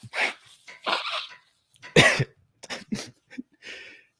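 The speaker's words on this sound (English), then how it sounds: "Let me blow my nose real quick." Several short, breathy bursts of nose blowing and sniffing nearby, loud and uneven with brief pauses between.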